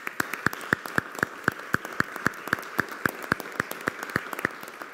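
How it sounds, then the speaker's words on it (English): An audience at a school board meeting applauds in a thin, steady run of sharp claps, fairly faint and evenly paced, with no talk over it. "I want to give everybody a round of applause for the work"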